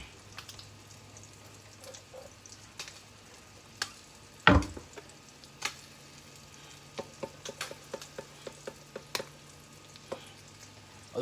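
Meat frying quietly in a pan as it is stirred, a soft low sizzle under scattered ticks and scrapes, with one sharp loud knock near the middle followed by a run of small clicks.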